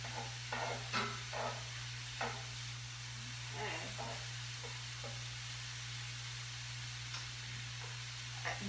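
Mushrooms and onions sizzle in a skillet with a soft, continuous frying hiss, quiet and steady, with occasional light clinks and stirring scrapes over a low background hum.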